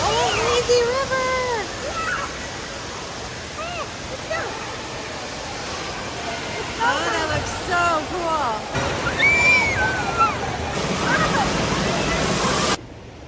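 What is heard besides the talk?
water flowing at an indoor water park lazy river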